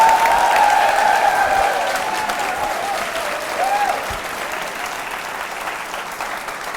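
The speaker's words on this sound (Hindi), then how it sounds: "तालियां जोरों से बजाइए, जोरों से बजाइए, जोरों से बजाइए" Applause from the audience at a college quiz show, a broad sustained burst of clapping that starts strong and eases slightly while staying continuous, alone without talk.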